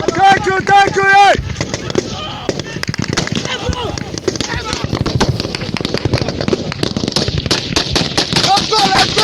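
Rapid machine-gun bursts and repeated gunshots in a battle scene, loud and close, with a shouted voice at the start and the firing continuing densely throughout.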